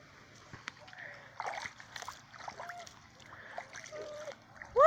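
A pet goose splashes and sloshes about in a shallow puddle, with soft intermittent water sounds and a few quiet honks, close by and moderately quiet.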